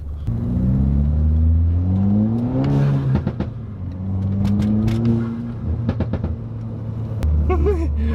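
A Mitsubishi Lancer's engine revs up and drops in pitch several times as the driver shifts through the gears, a close, steady drone with rising and falling tones throughout.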